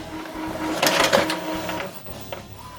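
An Epson WorkForce WF-2930 inkjet printer runs an alignment page, giving a steady mechanical whir with bursts of print-head shuttling and feed rattles, close and fairly loud with no talking.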